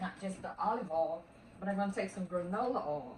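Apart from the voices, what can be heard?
None of the usual background noises is heard.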